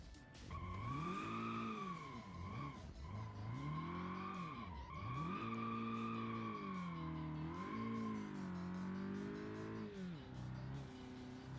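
Car engine in BeamNG Drive wails and revs continuously while its tires squeal through a long drift, the pitch rising and dipping with each slide, loud and close throughout.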